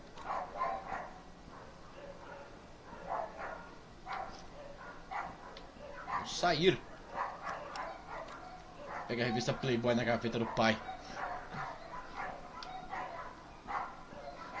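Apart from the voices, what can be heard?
dog barking outside, from the video game Sally Face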